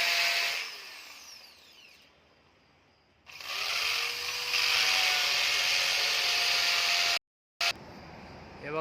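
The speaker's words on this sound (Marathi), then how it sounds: "ड्रिल मशीनने आपण होल मारलेले आहे" An electric drill bores 5 mm holes, whirring up to a loud steady whine, stopping, then running again for several seconds before cutting off abruptly, close to the listener.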